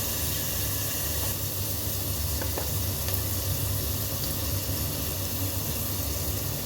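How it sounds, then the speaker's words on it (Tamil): Millet kichidi frying in a pan with turmeric, asafoetida and salt, giving a steady close sizzle and hiss throughout with a faint clink of stirring partway. "எல்லாத்தையும் சேர்த்து நல்லா ஃப்ரை பண்ணிக்கலாம்"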